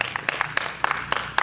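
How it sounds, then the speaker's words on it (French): A small audience claps at the official opening of a puppet theatre festival in Abomey, a sparse, uneven patter of individual hand claps spread over a little more than a second, close and fairly light. "Applaudissez pour vous."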